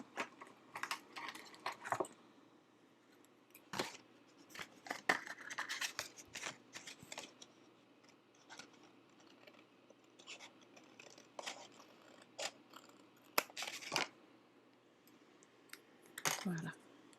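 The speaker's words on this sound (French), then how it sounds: "je vais peut-être y aller au ciseau" Scissors cutting card while making a theatre-style greeting card, quiet snips and paper rustles in scattered bursts, close but faint, with soft talk and handling noises between.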